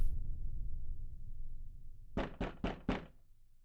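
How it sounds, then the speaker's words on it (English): Four sharp knocks on a wooden front door of a house, evenly spaced and close, sounding over a low rumbling background after a quiet stretch. "And a knock on the door ring out."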